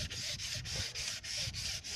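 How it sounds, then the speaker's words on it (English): Steady abrasive sanding of a wheel rim, a continuous rough scratching that swells and dips in regular strokes about every quarter second, close and loud with no talking. "and we just start sanding"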